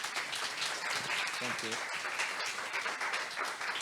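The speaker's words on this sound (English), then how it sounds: "can we please give a round of applause for Faisal?" Audience applauds after a talk on implementing DMARC and BIMI for email, a steady wash of clapping throughout, with someone briefly speaking over it.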